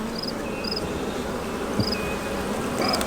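Bees hum around an open second brood box on a hive, a dense steady buzz with occasional individual bees whining past nearby.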